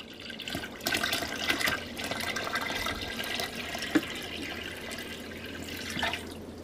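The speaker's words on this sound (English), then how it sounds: "Okay, I am now pouring in my second gallon of water." A gallon of water pours steadily into a portable collapsible foot spa, a continuous splashing gush with a faint bubbling undertone and one brief knock, no talking.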